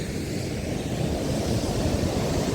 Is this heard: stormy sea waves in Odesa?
yes